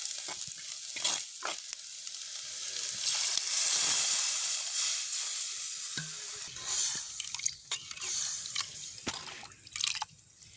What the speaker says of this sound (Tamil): வெங்காயம் உள்ளி மிளகாய் எல்லாம் நல்லா வதங்கிடுது